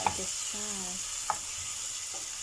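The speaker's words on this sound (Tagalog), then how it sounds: "Gisa muna tayo, gisa." Garlic, onion, ginger and tomato sautéing for squid adobo, a soft continuous sizzle with a couple of brief utensil taps and a faint tonal hum in the background.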